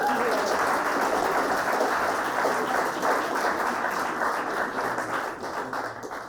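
A comedy show audience breaks into a steady round of applause, dense and full, fading slightly toward the end, with faint voices mixed underneath.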